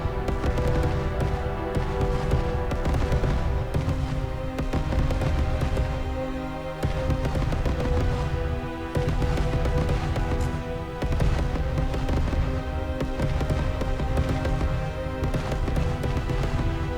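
Rapid, sustained bursts of spaceship cannon fire in the game Starcom Unknown Space, loud and dense with a steady mechanical rhythm and brief pauses between volleys.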